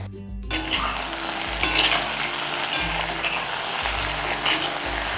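Green chili paste frying with soft-cooked brinjal in a pan: a constant close sizzle broken by repeated scraping stirs every second or so, steady and fairly loud, with no voices.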